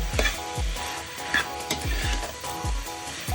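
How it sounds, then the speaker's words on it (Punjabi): French beans being tossed into a hot pan of sizzling spices and stirred, with rhythmic scraping strokes about every half second over a steady frying hiss. "ਜਿਹੜੀ ਆਪਣੀ ਸਬਜ਼ੀ ਆ ਉਹ ਆਪਾਂ ਪਾ ਦਾਂਗੇ ਮਿਕਸ ਕਰਾਂਗੇ"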